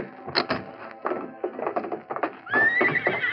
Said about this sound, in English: That paint horse is a beaut, Bucky.